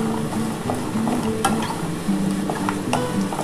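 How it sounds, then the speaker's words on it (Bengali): Bori lentil dumplings frying in hot oil, a soft continuous sizzle with light taps and clatters from a utensil stirring in the pan. "একটু লাল লাল করে বড়িটা ভেজে নিই।"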